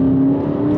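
Aston Martin DBX 707 SUV engine pulling hard under acceleration, a loud, close, steady drone with a sustained tone throughout.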